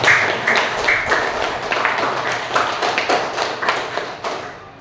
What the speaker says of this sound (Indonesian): Tepuk tangan untuk Baby.